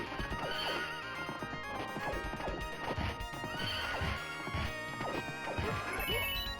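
Busy video-game mix from Knights of the Round of clattering hoof clip-clops and crashing impacts, with horse whinnies rising through the dense, continuous din.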